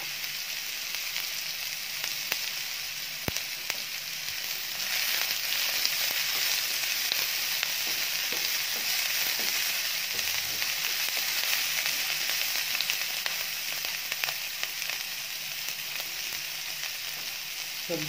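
Carrot and bell pepper pieces fry in a pan for a spicy mixed-veg Maggi, giving a steady, close crackling sizzle that runs evenly throughout with faint scraping of stirring and no talk.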